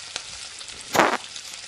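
Potato sticks for French fries deep frying in hot oil, a quiet bubbling sizzle with one brief louder crackling burst near the middle.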